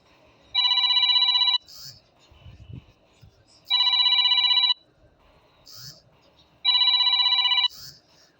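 A phone rings with an incoming call, three separate bursts of an electronic ringtone about a second long each. Quiet rustling and faint background noise fill the gaps between rings.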